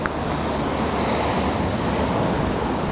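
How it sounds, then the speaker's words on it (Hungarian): A mountain river rushes beneath a bridge in a valley of the French Alps near the Col de la Bonette, a steady, loud broadband wash of water with no voices. "és megint a folyót csodáljuk"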